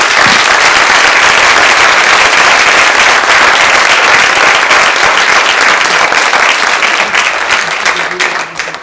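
Loud, sustained applause from a conference audience at a river and water defense assembly, dense clapping that holds steady for several seconds before tapering at the end.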